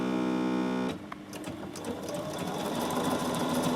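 Bernina 7 Series sewing machine: a steady mechanical whine, then a busy run of rapid stitching clatter with ticking and whirring, close and moderately loud.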